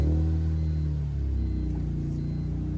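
A BMW E46 M3 Cabriolet with its S54 engine settles into a deep, steady idle right after starting, a close, loud rumble with a strong low drone and no talking.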